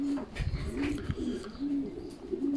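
A young racing pigeon, hatched in January 2020, gives repeated soft low coos in a steady rhythm from close by, with faint background noise between calls.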